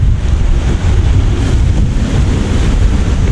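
A river rushes below the bathing place at the Bindukesar Mahadev temple on the Nuwakot–Dhading border, a loud, steady wash of flowing water mixed with wind buffeting on the microphone, with no speech.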